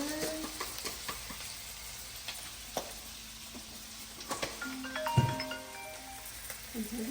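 Spices such as cumin and chili sizzling and frying in a pan while cooking goat meat, a soft steady crackle with occasional spoon scrapes and stirring knocks, close and fairly quiet.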